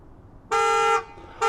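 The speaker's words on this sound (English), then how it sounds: "So at this point, the alarm is going off." Tesla car alarm sounding as the door opens, a loud, clean horn-like tone blaring in two bursts, the first about half a second long, the second starting just after a short gap.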